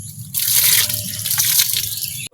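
Water splashes and trickles steadily onto a vermicast worm bed while it is being watered, up close and continuous, then stops abruptly at the end.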